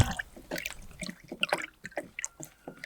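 Turpentine pours in a thin, runny stream and drips into a container outdoors during work on a cedar roof deck for a skoolie bus, giving quiet, irregular liquid trickles and splashes close by.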